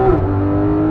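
A 2016 Porsche GT3 RS engine pulls hard under acceleration, a loud, close, steady high-pitched howl that holds its tone through the brief burst.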